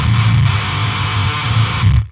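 Heavy distorted electric guitar chugs run through an Otto Audio Blown Out Wall pedal with the distortion turned up high, loud and saturated, sustaining steadily before cutting off abruptly at the end.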